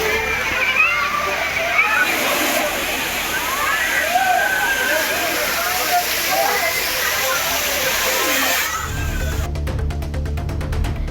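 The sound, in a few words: waterfall water pouring down, bathers splashing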